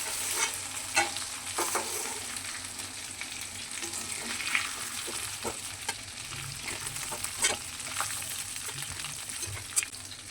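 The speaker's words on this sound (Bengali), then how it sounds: "এইভাবে সেকেন্ড টাইমও আমি এই চিকেনগুলোকে ভালো করে ভেজে নেব।" Chicken pieces fry in hot oil for a garlic chicken gravy, a steady close sizzle with repeated scraping stir clatters throughout and no talking.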